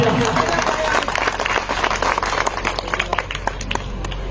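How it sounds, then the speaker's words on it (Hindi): Audience at a social-service speech clapping in a dense, steady patter for several seconds, with a voice speaking over the applause. "आप लोगों के बहुत बढ़िया, तालियां बजाएं, बहुत बढ़िया।"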